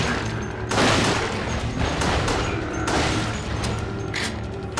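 Rapid gunfire and booming shots from the Resident Evil: The Darkside Chronicles video game, loud bursts repeating over a dense, continuous background of game noise with no one speaking.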